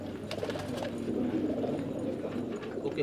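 Kept fancy pigeons coo steadily in low, throaty rolling phrases, close by and continuous, with faint knocks and shuffling underneath and no talking.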